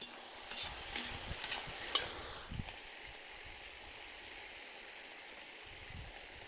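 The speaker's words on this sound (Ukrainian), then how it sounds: "бульйон практично випарувався, додаємо олію і обжаруємо." Chanterelle mushrooms fry in oil in a pan with a soft, continuous sizzle, and a few light stirring clicks come early on.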